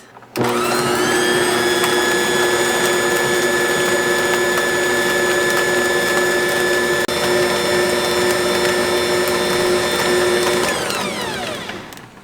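A Nutrimill Artiste stand mixer with a clear bowl starts up and runs, a loud steady motor whine with a sustained tonal hum, close by and alone, winding down near the end.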